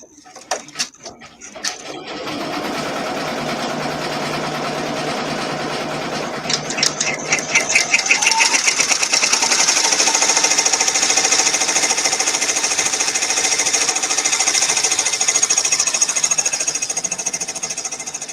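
An embroidery machine set to about 600 speed sews the placement stitch of an in-the-hoop project, a steady, close mechanical whir with rapid needle chatter that starts after a few clicks and runs continuously.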